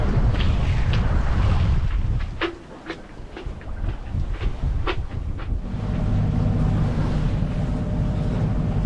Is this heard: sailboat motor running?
yes